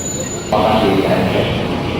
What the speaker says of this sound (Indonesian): JRS 205 series, rangkaiannya 12 kereta.